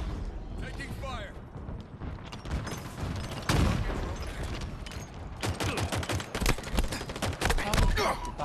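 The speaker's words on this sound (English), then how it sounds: "Taking fire." Video game gunfire in Falling Flat crackles in dense bursts and volleys, loud and close, under excited player chatter.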